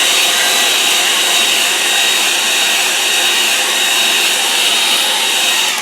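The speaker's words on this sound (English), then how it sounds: "dry it with a hairdryer" A hairdryer blows continuously and loudly up close, a steady airy roar with a high whine, drying watercolour paper with no voices and no change in tone.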